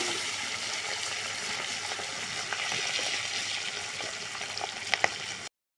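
Fish sizzles in hot mustard oil in a Bengali home kitchen, a steady close crackle and hiss that continues without a break, with a couple of sharp pops and clinks near the end before it cuts off.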